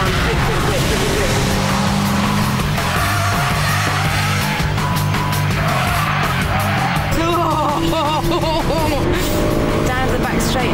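A Honda Civic Type R driven hard on a race track, engine roaring loud and close with tire squeal and skidding through corners, while someone talks continuously over it.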